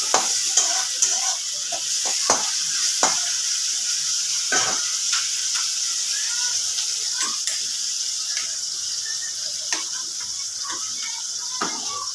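Onions frying in a pan for a chicken recipe, a continuous bright sizzle with occasional scraping stirs and spatters, close and steady, no talking.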